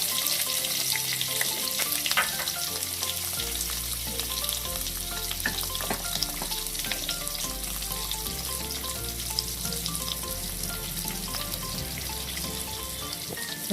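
Onion and shahi cumin fry in a pan with a strong, continuous sizzle and scattered crackles and spits, while a low tonal hum runs underneath the whole time.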